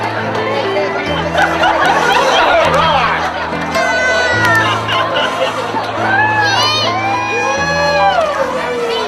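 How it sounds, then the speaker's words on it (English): Wedding guests cheer and shout loudly as a crowd, with babbling voices and a steady music bed underneath throughout. "So give them a round of applause."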